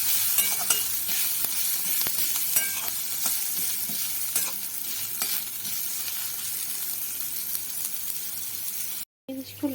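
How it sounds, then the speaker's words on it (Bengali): Onion, garlic and green chillies fry in a pan with a continuous close sizzle and occasional stirring scrapes, then a brief dropout near the end. "ভাজাগুলো হয়ে এসছে, পেঁয়াজ রসুন লঙ্কা"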